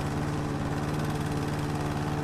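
A lawn mower in the House Flipper video game drones steadily at close range, a loud, even engine hum with a constant low vibration and no breaks.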